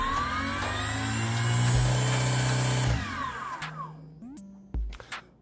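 An electric motor driven by an e-bike controller on a drone battery whines loudly and steadily, rising in pitch, then cuts out and winds down with sputtering, stuttering bursts.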